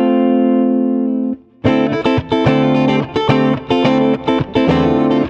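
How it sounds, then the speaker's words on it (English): Ibanez JS2480 electric guitar on its middle pickup with an effected tone: a sustained held note, then a run of loud, rhythmic strummed chords played alone. "So middle pickup I think is just great."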